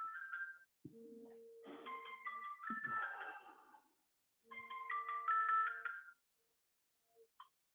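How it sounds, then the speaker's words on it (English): A phone ringtone goes off during a gentle hatha yoga class: a bright electronic melody plays in two clear bursts with a short silent gap between them. No one talks over it. "Got to start turning the phone off."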